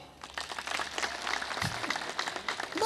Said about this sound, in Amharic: እስቲ ናቸው የምትሉ አጨብጭቡ።